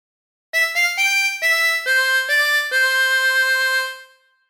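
A chromatic harmonica plays a phrase of When the Saints Go Marching In, seven or eight clear reedy notes in a steady tune, close and alone, with the last note ringing out and fading.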